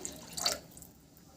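Water splashes into a cooking pot while a fish curry with potatoes is being made, a brief close trickle and splash lasting under a second, then fading to quiet kitchen background.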